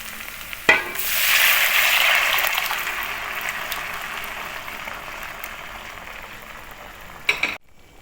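Boiled yellow dal poured into a hot pan of fried tempering for a dhaba-style dal tarka, hitting with a loud sizzling burst that settles into a long, steady hiss and bubbling, with no talking.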